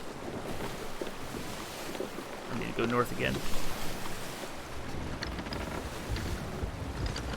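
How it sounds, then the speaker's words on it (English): A wooden sailing ship sways and rocks on ocean waves in a video game on Xbox Series X, giving a steady wash of wind and water noise throughout, with a player's voice talking briefly over it. "the whole time the ship is swaying and rocking in the waves"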